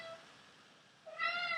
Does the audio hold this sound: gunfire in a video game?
no